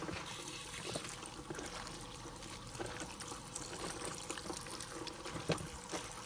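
Rinsed kimchi cabbage drains in an RV kitchen, giving a steady close trickle and splash of water that runs continuously with small drips and no talking.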